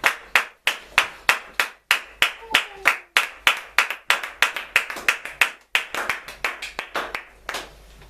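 A church congregation claps in acclamation with steady, rhythmic claps, roughly four per second, loud and close for about eight seconds, with no talking over them.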